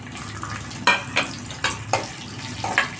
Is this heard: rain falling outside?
no